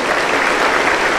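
Loud, dense applause from a church congregation during a worship service, a continuous wash of clapping with no voices over it.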